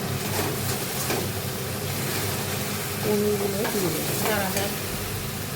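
Spices frying in oil for aloo dum, a Bengali potato curry, give a dense, continuous sizzle with stirring scrapes near the end and faint background noise.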